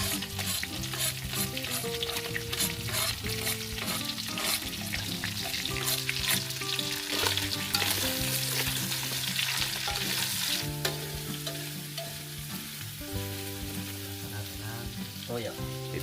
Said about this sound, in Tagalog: Ilalagay na ng panggisa. Bawang at sibuyas.